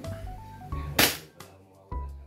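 An E&C Glock 34 airsoft pistol fires a single sharp, loud crack, followed by fainter clicks, with tonal electronic beeps before the shot.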